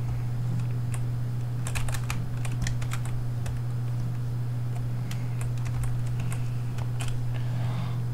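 Rapid computer keyboard and mouse clicks while shift-clicking items in a Minecraft-style Hunger Games match, irregular bursts of sharp taps over a steady low electrical hum.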